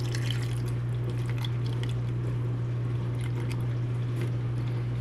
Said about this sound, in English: sorry if you hear the dishwasher going